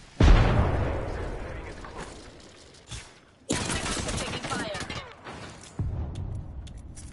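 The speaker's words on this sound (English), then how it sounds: "Grenade incoming." A grenade explosion in the shooter game Apex Legends hits with a sharp loud burst at the start, followed by further bangs and gunfire-like bursts in a busy combat mix.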